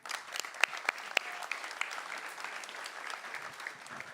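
Audience applause for a solar racing car technical team invited on stage at a car reveal, a steady wash of many hands clapping with a few sharper claps standing out early, moderately distant and continuous throughout.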